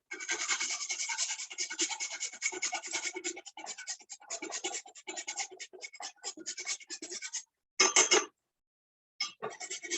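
Fresh ginger root is scraped quickly back and forth over a grater in a dense, steady rasping, close and fairly quiet, then comes a brief pause, one harder scrape and a final short burst.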